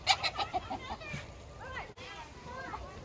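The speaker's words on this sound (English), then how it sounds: "That's a pretty rooster." A rooster clucks at a child's birthday party, short clucks standing out under close chatter from children and adults.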